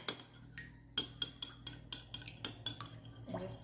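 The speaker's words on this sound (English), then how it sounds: "I am just going to stir that all, break those eggs" Eggs are stirred and broken up in a bowl, giving quiet, close, uneven clinks and taps of a utensil against the bowl, repeated about a dozen times with no talking.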